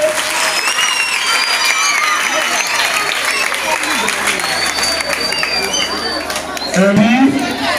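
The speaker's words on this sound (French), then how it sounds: "applaudissons pour le comité" A crowd at a Kinshasa civic launch event applauds for a newly installed committee, steady clapping mixed with chatter and babble throughout, voices rising near the end.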